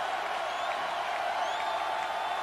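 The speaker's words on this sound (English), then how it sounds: "Capacity crowd on hand." Capacity crowd roaring steadily in the stands of a 1982 Tennessee versus LSU college football game, a dense continuous wash of distant voices and applause with no breaks.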